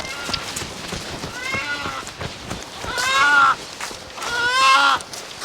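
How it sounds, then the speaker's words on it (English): A chicken lets out shrill, squawking distress calls in a barnyard with chicks nearby, two loud strained cries rising over a noisy background of rustling and scattered voices. "Oh, it's a chicken."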